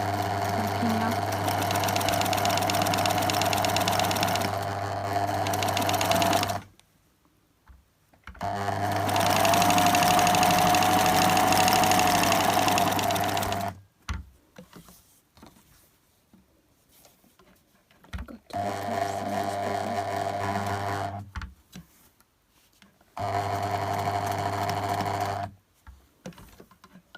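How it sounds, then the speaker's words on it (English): A sewing machine runs a straight stitch of about 2.5 mm on lace, with four steady, loud stitching runs separated by short quiet pauses. "on the actual lace, and I'll just do a straight stitch"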